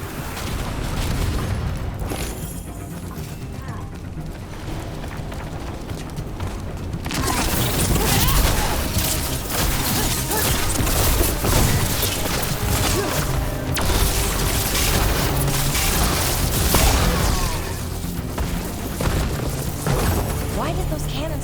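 Cannons fire in Dragon Age: The Veilguard during a battle, loud booming blasts and crashes under a dense, continuous roar of combat that grows heavier after the first several seconds, with voices mixed in.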